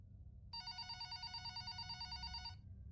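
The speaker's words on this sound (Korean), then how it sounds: "전화벨은 계속 울렸지만 아무도 받지 않자" An unanswered telephone rings steadily in quick, even pulses for about two seconds, then stops; the ring is faint and thin over a low background hum.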